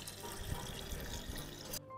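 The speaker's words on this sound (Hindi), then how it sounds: "अभी छीलने के बाद में इनको अच्छे से साफ कर लेंगे पानी में" Peeled wild send vegetables are rinsed in water, giving a brief close splashing and sloshing with small irregular knocks, continuous for under two seconds before cutting off.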